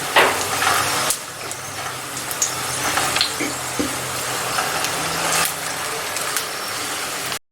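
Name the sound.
Arabic paratha (mutabak) cooking on a pan over a low flame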